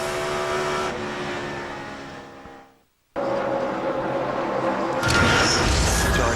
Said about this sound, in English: Michael Waltrip on the track runs in 33rd with a heavy heart today.